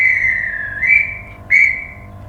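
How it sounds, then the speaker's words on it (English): Dispatch whistle sound effect from an Accurascale Class 92 model locomotive in Caledonian Sleeper livery: two shrill whistle blasts, the first longer and wavering, the second short and sharp, loud and close. "Dispatch whistle."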